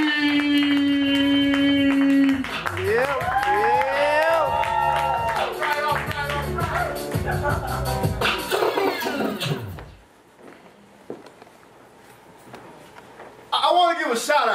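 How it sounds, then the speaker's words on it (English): A poetry slam audience claps and cheers loudly for several seconds with whoops and shouts. The noise then drops to near quiet before voices pick up again. "keep your hands clapping as we start the slam"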